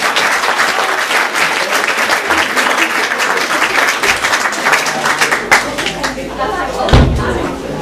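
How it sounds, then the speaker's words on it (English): Event audience at a WW1 Armistice centenary gathering applauds loudly and steadily, a dense close wash of many hands clapping with a few heavier thumps near the end. "Another round of applause for Jenny"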